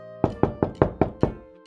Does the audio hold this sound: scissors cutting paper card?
no